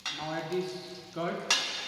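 Curd stirred into frying Murgh Methi Korma with slit chillies, a short burst of sizzling and spoon scraping in the pan, fairly faint, with a sharper clink near the end.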